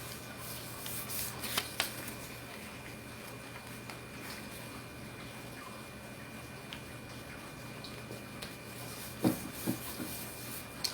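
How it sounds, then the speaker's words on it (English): Paper folded in thirds for a paper snowflake, soft crinkles and a couple of sharp creasing rustles at the start and near the end over a quiet room hum, close and faint. "Fold your paper in thirds."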